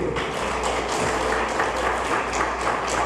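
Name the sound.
church congregation applauding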